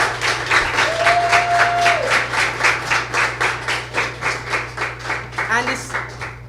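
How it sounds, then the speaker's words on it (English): A crowd claps in a steady, rhythmic round of applause, loud and sustained, with a brief voice and a hum underneath. "Give Wycliffe a good round of applause."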